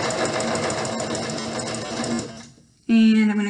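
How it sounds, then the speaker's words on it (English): A sewing machine stitches a pillowcase in a rapid, rattling buzz that slows and briefly stops, then restarts as a louder whirring run for the backstitch. "Now I'm going to backstitch."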